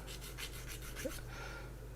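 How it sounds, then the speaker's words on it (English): Plastic model exhaust parts for a 1/24 Trumpeter Messerschmitt Bf109 G-2 kit being sanded by hand, a soft rhythmic rubbing with about eight even strokes, close and quiet. "basically just sanding down the front ends to remove"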